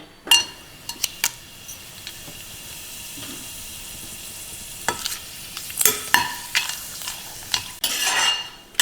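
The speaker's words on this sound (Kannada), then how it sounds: "ಈಗ ಎಣ್ಣೆ ಕಾದಿದೆ ಫಸ್ಟು ಈ ಮಸಾಲೆ ಪದಾರ್ಥನ ಹಾಕ್ಕೊಂಡ್ಬಿಡೋಣ" Whole spices hit hot oil in a pan and sizzle and crackle, with sharp scattered pops and clinks of a utensil stirring and scraping close by, swelling toward the end.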